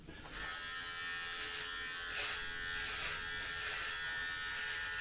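An electric beard trimmer with a built-in light buzzes steadily and close up for about five seconds while touching up a beard, its high whine holding level with slight changes as it moves across the hair.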